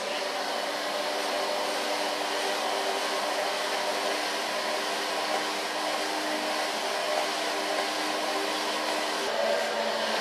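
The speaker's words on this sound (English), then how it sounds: "I start to blow dry it from the back side up to the front with a large brush" A hair dryer blows steadily and loudly at close range for the whole stretch while hair is blow-dried from back to front with a large brush, a constant airy roar with no voices.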